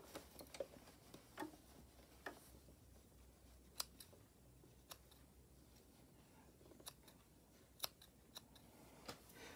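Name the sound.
scissors trimming loose threads off sewn fabric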